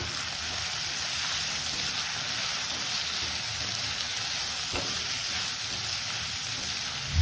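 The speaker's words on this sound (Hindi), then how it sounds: "हम सब्जियों को अच्छे से भून लेंगे।" Vegetables fry in a pan with red chili and a little salt for sambhar, giving a steady, even sizzle that holds at a constant level throughout with no talking.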